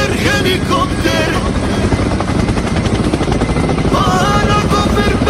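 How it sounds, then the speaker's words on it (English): Helicopter close overhead in the Rocky Mountains, a loud steady rotor chop with dense rhythmic thumping that holds throughout, over a constant engine roar. "Helicopter, helicopter."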